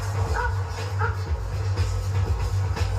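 A police tracking dog works through bushes beside fields near a motorway, with a few soft yips and brief dog vocal sounds over a steady low engine-like hum and outdoor noise.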